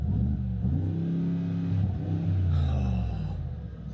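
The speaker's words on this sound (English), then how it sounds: "I'm going to start it up, and this is the engine of my new car" A new car's engine runs and revs, a loud, low, throaty rumble rising and falling in pitch, with no talking.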